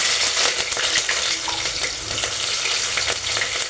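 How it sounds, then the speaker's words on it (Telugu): Sliced onion and green chillies fry in hot oil for a village-style mutton curry, giving a loud, steady, close sizzle with crackles and light stirring throughout, and no voices. "ఆనియన్ పచ్చిమిర్చి అనేది మంచిగా వేగాలి."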